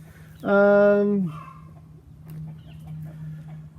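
A laying hen gives a loud, drawn-out squawking cackle near the mic, then quieter clucks and farmyard noise continue in the background.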